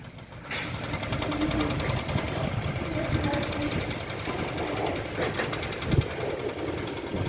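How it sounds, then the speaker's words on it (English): Construction machinery carrying out soil testing at a theme park building site, a steady mechanical rattling and knocking drone heard from a distance with a faint thud near the end. "I can hear soil testing!"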